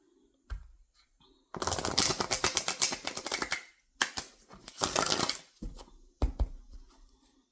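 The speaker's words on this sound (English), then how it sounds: "we will shuffle on camera as well" A deck of tarot cards is shuffled in several quick, crisp rattling bursts separated by short pauses, close to the listener.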